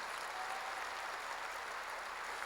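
A church congregation applauds during a worship service with steady, continuous clapping from many hands. It sounds fairly distant and even, with no talking over it.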